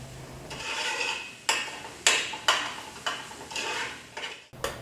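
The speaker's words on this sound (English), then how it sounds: "I'll add in my chopped garlic and stir that for 1 to 2 minutes or until fragrant" Chopped garlic and onions are stirred in a pan, a utensil scraping and knocking the pan in a series of distinct strokes over a soft background sizzle.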